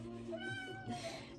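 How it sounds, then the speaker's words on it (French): A cat cries out in a long drawn, whining meow close by, fairly quiet and continuous, alone without talk. "j'ai un vidéo où il y a un chat qui fait que crier"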